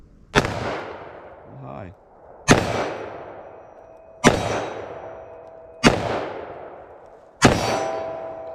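Five loud, sharp gunshots from a short-barrel .357 Magnum revolver, spaced about one and a half seconds apart, each followed by a ringing decay; a short spoken word comes between the first two.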